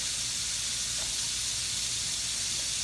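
Butter sizzling in a hot pan while buns toast for fried catfish sandwiches, a steady bright hiss with no voices.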